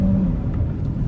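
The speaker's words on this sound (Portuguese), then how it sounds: "eu vou dar uma acelerada de esticar ele aqui" A 2026 Ford Territory engine revs hard during a test drive with a deep, loud rumble that surges briefly, close by and with no voices.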